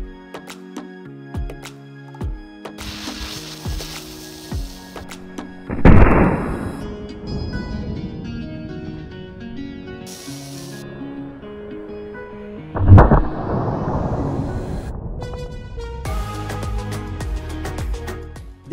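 Gunpowder charges blow up a plasticine model truck trailer with two sharp explosive bursts several seconds apart, each trailing into a rumbling decay over background music.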